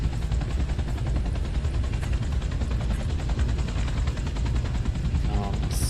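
Spaceship drive thrusters in Space Engineers give a steady, loud, broadband roar with a faint rhythmic pulsing that holds unchanged throughout, with no voices over it.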